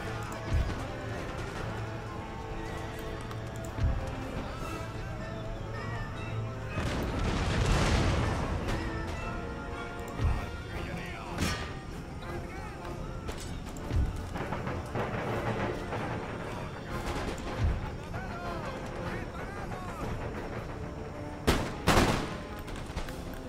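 Musket volleys and artillery fire in the battle game Empire: Total War, with scattered cracks and booming bursts over a busy background of marching and horses, some shots near and some far, under a low murmur.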